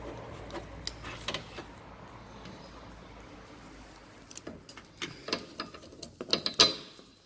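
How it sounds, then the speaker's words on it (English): Snap-on hand ratchet wrench turning a 13mm socket during front spring replacement on a 2006 Fiat Punto in a garage, heard as scattered close clicks and metallic clatter that quicken into a denser burst near the end. "13mm socket. It's a bit of a handy little tool. Snap-on hand wrench."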